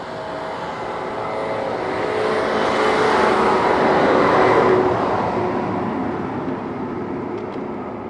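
A truck passes close by while a rider travels on a KBO Flip folding class 2 e-bike, a broad rushing roar swelling to a peak midway and then easing off, over steady wind and road noise.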